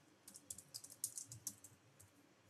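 Fingers type C code on a computer keyboard, a close, quick run of light key clicks in uneven bursts over a quiet room.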